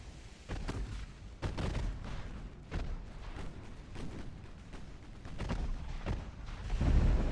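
Naval guns firing in the warship game Ultimate Admiral: Dreadnoughts, a series of sharp booming shots spaced irregularly over a rumbling background, moderately loud with no talking.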